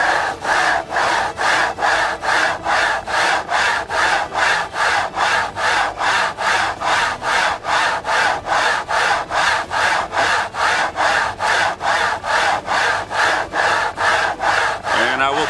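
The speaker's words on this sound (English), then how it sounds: "I'm gonna put a little bit of WD-40 here, and I'm gonna start sharpening on the" A planer blade being sharpened by hand on a 325 grit stone wetted with WD-40, a loud, even back-and-forth rasping stroke repeated about twice a second without a break.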